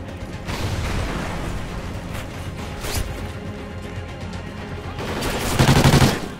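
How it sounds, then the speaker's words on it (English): Video game gunfire in Call of Duty: dense, continuous automatic weapon fire and rattling shots that run steadily throughout, swelling louder near the end. "Shots come from the left too."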